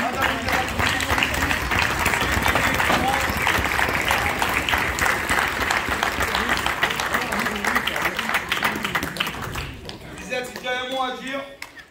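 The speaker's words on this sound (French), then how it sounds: "j'aimerais, les enfants, que vous applaudissiez vos parents" Children applaud their parents at a Christmas cup event in Marseille, a dense, loud burst of crowd clapping that fills the room and then fades, with voices and chatter rising underneath as it ends.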